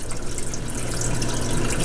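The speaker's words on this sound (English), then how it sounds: "the water being pumped in from the fish tank" Water pumped from a basement fish tank pours into a clean tank, a steady loud gushing splash close by that runs unbroken without any talking.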